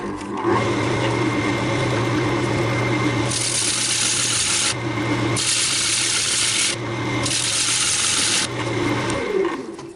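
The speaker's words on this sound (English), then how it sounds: "Just using this little pointed carbide cutter." A pointed carbide cutter scrapes grooves into a big wooden bowl spinning on a lathe, a steady motor hum carrying three loud, rough cutting passes of about a second and a half each.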